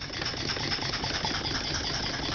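A homemade steam engine with boiler runs with its throttle opened, giving a dense, steady chugging roar that stays loud and continuous with no talk.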